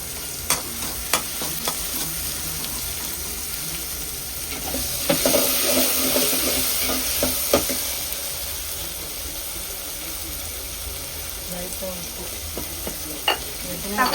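Onions and spices for a fish curry sauté in a pan, giving a long, steady sizzle with occasional sharp taps and scrapes of a spoon against the pan at irregular intervals.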